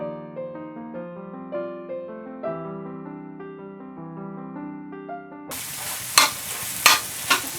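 Reconstituted freeze-dried eggs scramble in a pan, a burst of sizzling with a few sharp stirring scrapes that follows a stretch of gentle melodic music.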